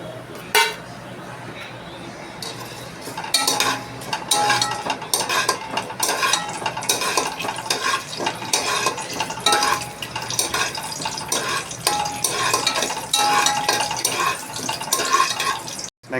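Ghee with cinnamon, cloves and bay leaf sizzles in a pressure cooker for mushroom biryani, with steady frying crackle and sharp clinks of a utensil against the pot while a person talks.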